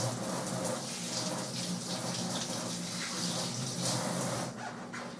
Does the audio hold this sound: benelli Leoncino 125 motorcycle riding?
no